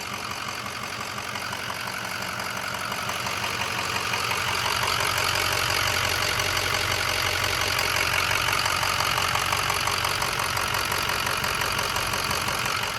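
An old dually truck's engine idles steadily in the snow, a dense continuous rumble with faint knocking that stays level and close throughout.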